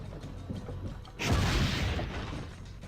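Cannon firing in the game Assassin's Creed Brotherhood, a single deep boom midway that rolls out into a rumbling tail, heard alone without talk.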